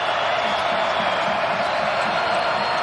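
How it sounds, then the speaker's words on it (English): A loud, steady basketball arena crowd roars and cheers at the Peterson Events Center during a Clemson versus Pitt men's game, with a continuous wash of noise and faint court thumps beneath. "Did you ever think at the beginning of the year you'd hear a crowd like this in the Peterson?"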